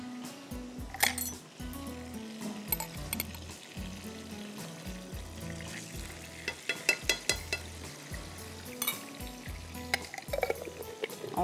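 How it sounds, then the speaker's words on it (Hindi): Three whole red chillies and a spoon of ginger garlic paste frying in melted butter, a light sizzle under frequent metallic clinks and scrapes of a spoon against the pot, close by, without speech. "और ज़रा सा हम इसको भूनेंगे"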